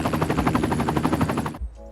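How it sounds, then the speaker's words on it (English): Helicopter in a city-building video game, heard up close as a loud rapid rotor chop that pulses evenly, then cuts off abruptly near the end. "Everywhere I seem to zoom in, suddenly there's a helicopter."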